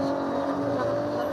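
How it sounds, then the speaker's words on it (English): Loud, steady engine drone from a classic BMW touring race car at speed during a Pirelli World Challenge race in Utah, sustained and close with no break. "Jason Clooney, another of the classic BMWs, sitting in the 6th spot"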